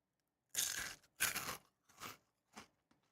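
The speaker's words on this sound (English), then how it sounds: "Did you hear me crunching stuff?" Close, dry crunching of a salty snack in four or five separate bites, each a short burst of crackle, fading toward the end in a quiet room.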